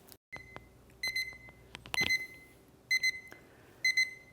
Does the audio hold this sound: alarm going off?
yes